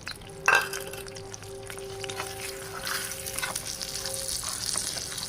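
Semolina frying in melted desi ghee in a pan, a soft, steady sizzle with a brief louder clatter near the start and faint scraping further on.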